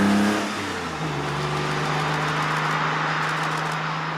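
A Porsche 996 Carrera, a rear-drive 911, pulls along a road in France, its engine holding a loud, steady, rising note after a brief shift, with road and wind noise around it and no talking.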